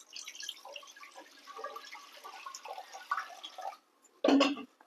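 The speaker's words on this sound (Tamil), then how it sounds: "பருப்பு நல்லா முங்குற அளவுக்கு தண்ணி ஊற்றிக்கிட்டோம்." Water trickles and splashes softly into a pot of washed lentils in a home kitchen, a faint, uneven pour that stops briefly before a short louder splash at the end.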